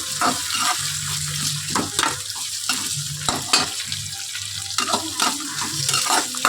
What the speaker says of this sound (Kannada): ಎಲ್ಲ ಚೆನ್ನಾಗಿ ಫ್ರೈ ಆಗಬೇಕು